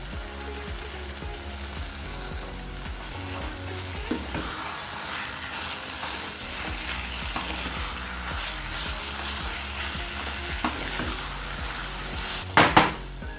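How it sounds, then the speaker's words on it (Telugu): Fresh coconut sizzles and fries steadily in a pan of pumpkin halwa, with a spoon scraping and stirring against the metal throughout, and a brief louder clatter of utensils near the end. "ఇప్పుడు మనం ఇందులోకి పచ్చి కొబ్బరి వేసుకుందాము."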